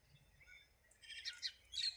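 Several small birds gather at a water tank by a rural bus stand, pecking at scattered rice. Faint, high chirps and tweets pick up in the second half, with a quiet rumble beneath.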